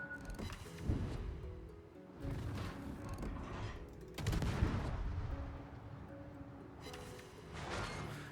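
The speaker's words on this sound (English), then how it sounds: "I'm in a gunfight with a Scharnhorst" Heavy naval gunfire booms repeatedly in a World of Warships battle, with a Tier VII British destroyer, HMS Jupiter, trading shots with a Scharnhorst; loud salvos and rumbling blasts recur in irregular bursts with no talking.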